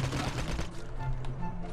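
A rapid burst of gunfire in Call of Duty Mobile battle royale, dense cracks packed into the first half-second, then fading into a muffled rumble at moderate loudness.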